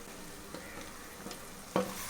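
Spicy masala with cubes of sheep blood frying in oil, a continuous soft sizzle with occasional stirring clicks and one sharper clank near the end.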